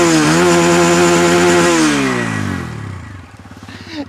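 A TVS Apache RTR 160 2V motorcycle engine, loud and close, dropping from a raised rev to a steady idle with a rapid rhythmic putter.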